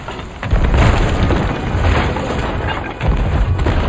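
Ship cannons in the Sea of Thieves pirate video game boom in heavy, continuous blasts, loud and close, rumbling together with no clear gaps between shots.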